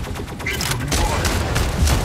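Incoming weapon fire pelting a robot in the Mech Arena combat game, a dense, loud burst of rapid shots and impacts running without pause, with a faint synthetic voice underneath.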